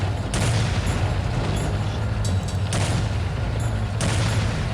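Heavy gunfire and booming impacts strike a tank in the World War II game Soldiers: Heroes of World War 2, with repeated loud blasts and rattling volleys over a constant battlefield rumble.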